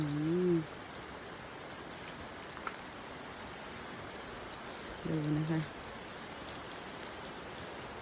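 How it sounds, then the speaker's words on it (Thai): Heavy rain pours steadily on a Thai farm beside a large greenhouse, a dense wash of even hiss throughout, with a voice speaking briefly at the start and again midway. "ถ้ามีอยู่วันนี้ฝนตกหนักๆกก็ ทำงานในเฮากันค่ะ"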